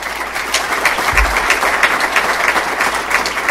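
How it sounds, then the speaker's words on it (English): An indoor audience at a pitch challenge event applauds steadily, a dense wash of clapping hands that stays loud for the whole stretch with no speech over it. "give a wave and take a round of applause"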